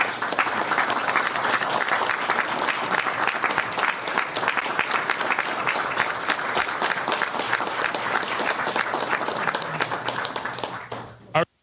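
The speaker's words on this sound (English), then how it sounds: "They're clapping as if he said something so great" Sustained applause from an audience at an event with Chicago Mayor Brandon Johnson, loud and steady throughout before cutting off abruptly at the end.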